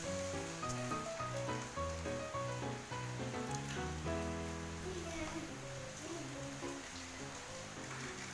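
Chicken simmers in water in a pan while being stirred back and forth, a steady bubbling sizzle with soft scraping under continuous background music.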